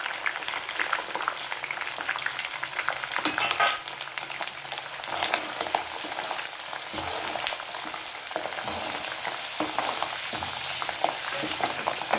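Chillies, curry leaves and garlic frying in hot oil for puliyogare gojju, a steady crackling sizzle with occasional sputters and stirring, close and continuous, no talking.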